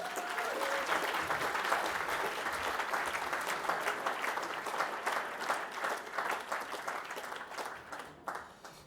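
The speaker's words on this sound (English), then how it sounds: "another round of applause for everybody" Sustained applause from an awards-ceremony audience, dense and steady throughout, tapering slightly near the end, with no talk over it.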